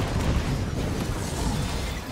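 An explosion in the video game Marvel's Avengers: a dense, rumbling blast with heavy low boom and crackling debris, sustained and loud across two seconds.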